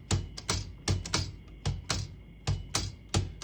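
Shift keys and typebars clacking on a 1926 Remington Portable vintage typewriter, a close, loud run of about a dozen sharp mechanical strikes in a fairly steady rhythm, with no voice.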